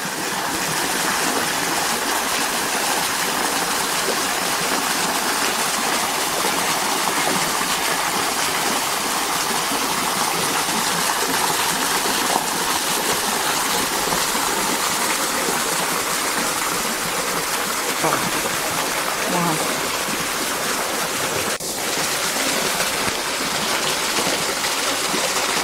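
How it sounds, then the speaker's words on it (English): A waterfall beside a giant fig tree pours in a steady, loud, broadband rush that continues without a break, with faint bird calls over it and no talking. "this amazing waterfall."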